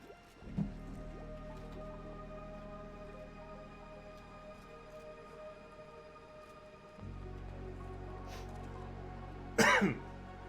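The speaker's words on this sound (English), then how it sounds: "Got a little bit of a cough today." A person coughs twice, with a short cough near the start and a harsher burst near the end, both close and fairly loud against a quiet, steady background hum.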